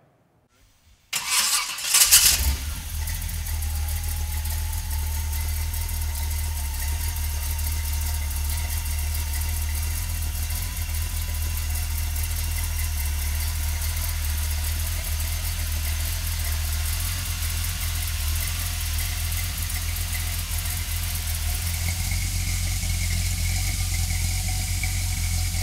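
A 1930 Ford Model A Tudor sedan street rod engine cranks and catches, then settles into a steady, rumbling idle that continues close by for the rest of the clip.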